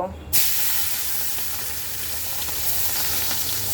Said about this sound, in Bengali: কড়াইতে তেল গরম করতে বসিয়ে দিয়েছিলাম এখন আমি মাছগুলো ভেজে নেব